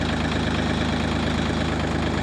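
A 4WD tractor engine idles steadily at close range, a continuous low rumble with a fast regular mechanical pulse that holds unchanged throughout, with no talking over it.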